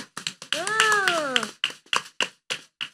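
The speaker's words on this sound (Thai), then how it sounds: "ปรบมือให้ตัวเองค่ะ" Listeners at a Thai Buddhist dharma talk clap for themselves, a run of sharp, separate handclaps in an uneven rhythm, close and distinct. A voice speaks briefly over the early claps.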